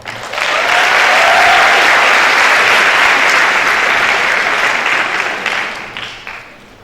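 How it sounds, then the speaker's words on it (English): Graduation audience applauding a student speaker at a 2019 QSI ceremony: loud, dense, sustained clapping from a large crowd that swells quickly, holds steady, then thins and fades near the end. "Now, please give another round of applause to our next student speaker"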